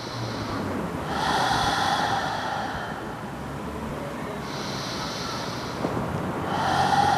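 Slow, deep breathing during an intermediate yoga practice: long airy inhales and exhales, fairly close and audible, repeating roughly every two to three seconds with no talking.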